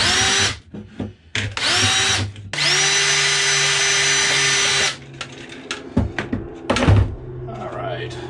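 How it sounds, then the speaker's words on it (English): Unibit step drill cleaning out holes in a plastic bucket for a homemade compost bin, several short whirring bursts and then one longer steady run, followed by clunks and handling noise. "I'm going to use a Unibit. Just real quickly clean out the holes."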